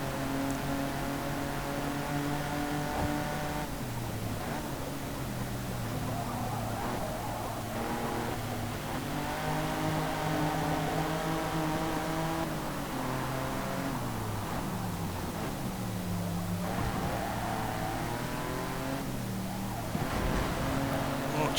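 Race cars in the Forza Motorsport 2 video game, including an all-wheel-drive Audi, rev and accelerate out of corners, engine notes climbing and dropping repeatedly through gear changes in a constant, moderately loud stream.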